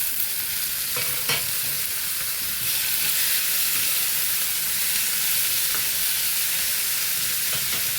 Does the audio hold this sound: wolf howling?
no